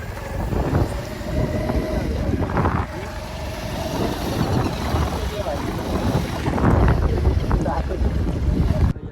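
Three people riding a motorbike on the road, with heavy, gusty wind buffeting the microphone and a rumbling engine-and-road roar that stays loud throughout, rising and falling in bursts.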